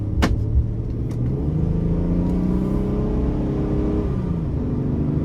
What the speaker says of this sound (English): And just to show you, I'll give it a little throttle here.